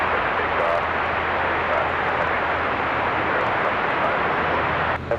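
Airliner taking off from runway 23 left at Raleigh-Durham International Airport on a windy day, a loud sustained broadband engine roar that holds steady throughout.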